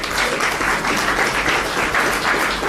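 Audience clapping at a university youth employability forum, a steady even wash of many hands applauding without pause, fairly close and loud.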